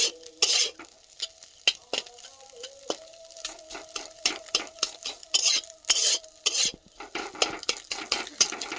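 Eggs crumbled into small bits are stirred as they fry in a pan, with repeated scraping and clinking of a utensil against the pan over a soft sizzle, close and steady with no talking.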